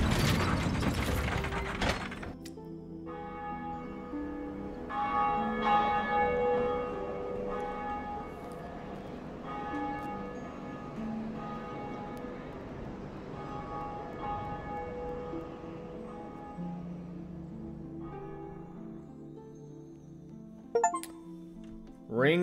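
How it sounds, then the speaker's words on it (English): A church bell, the Bell of Awakening at the Undead Church in the video game Dark Souls, rings out with sustained metallic tones and layered harmonic overtones. It swells repeatedly over a steady mechanical background, with a sharp clank near the end. "Ring the bell of awakening at Undead Church."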